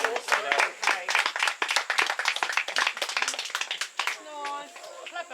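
A small group claps hands at the official opening of a sea turtle triage facility, brisk scattered claps mixed with nearby chatter and voices, fading out as talk continues.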